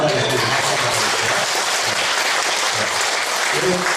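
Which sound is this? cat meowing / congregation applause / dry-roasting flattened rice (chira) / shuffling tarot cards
congregation applause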